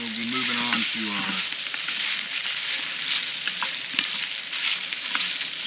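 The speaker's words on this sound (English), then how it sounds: "our pork and chicken is starting to get browned up pretty good" Pork and chicken brown in a pot over an open fire, giving a dense, steady sizzle with small pops and crackles throughout, close and fairly loud, after a brief tonal sound at the start.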